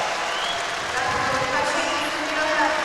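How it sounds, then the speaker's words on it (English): A stadium crowd at the women's +87kg European Weightlifting Championships applauds steadily as a lifter walks out, a broad continuous clapping under a commentator's voice. "She got a huge round of applause now"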